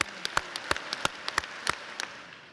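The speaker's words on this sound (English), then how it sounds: "Let me get 6 Pioneer power claps on 3." High school commencement audience clapping in unison, about six sharp synchronized claps spaced evenly and close together, loud and alone with no talk.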